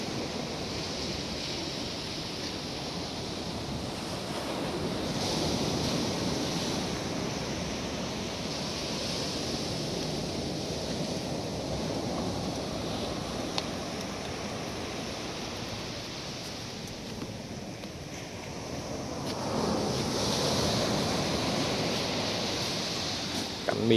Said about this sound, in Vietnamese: Miên man sóng vỗ luôn,